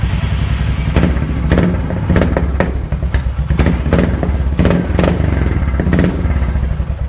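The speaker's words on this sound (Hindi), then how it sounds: "एक बार मैं ग्लोब टोरपेडो की साउंड सुना देता हूँ" A Classic Reborn motorcycle with a Globe torpedo silencer thumps loudly and close, idling with a deep rhythmic burble and occasional sharper revs, steady throughout.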